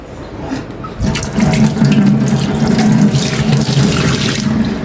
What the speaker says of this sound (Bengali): আমি একটু হাতটা ধুয়ে নিই